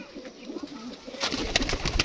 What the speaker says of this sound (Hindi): ये देखें जी दोस्तों माशाल्लाह कबूतर का शौक है। ये है जी कबूतर।